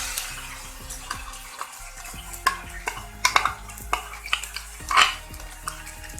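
Masala paste for chicken khara masala fries in hot oil in a pan with a soft sizzle, while a spoon scrapes and clinks against the metal in irregular close strokes.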